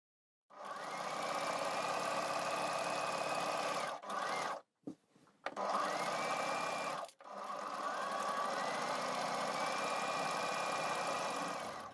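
A sewing machine stitches a long horizontal seam across the facing of a Parker coat, running steadily and close by, with two short stops and restarts partway through.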